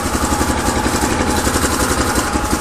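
A 1981 Honda XL500S single-cylinder motorcycle idles close by with its stock exhaust, a steady loud thumping pulse with even rhythm throughout and no talking.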